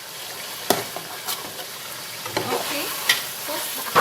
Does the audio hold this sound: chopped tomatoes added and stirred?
yes